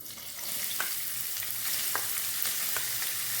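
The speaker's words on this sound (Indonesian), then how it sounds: "Sekarang kita masukkan bawang merah yang tadi sudah dipotong ya." Steady crackling sizzle of shallots frying in oil, with occasional sharper pops standing out over the continuous hiss.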